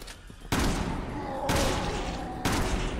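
Gunfire hits an enemy in the video game Resident Evil 6. Loud, dense bursts of shots come in three heavy blasts, each lasting about a second and sounding close.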